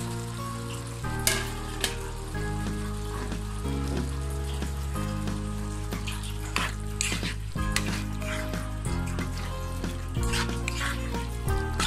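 Bean seeds go into a pan of fried spice paste for a coral fish dish, giving a steady, bright sizzle with occasional stirring scrapes, all under continuous background music.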